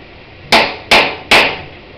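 Hammer tapping a pinewood derby car axle to prep it for speed: three sharp, evenly spaced metallic taps, close and loud, over a quiet background.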